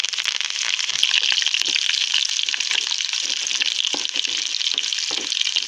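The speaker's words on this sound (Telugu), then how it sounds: "కరివేపాకు వేసుకుందాం." Curry leaves hit hot oil along with onions, tempering seeds and dried red chillies in a kadai, cooked for a bottle gourd masala curry; a loud, steady sizzle runs close up, scattered with sharp crackles and spits.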